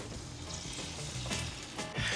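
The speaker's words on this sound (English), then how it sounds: "You know that it's heated up enough when you can take a little bit of liquid, splatter it in there, and it sizzles." A splash of liquid sizzling in a pan heated on a grill while cooking bruschetta salmon, a steady hissing crackle throughout with a brighter flare of sizzle near the end, no talking.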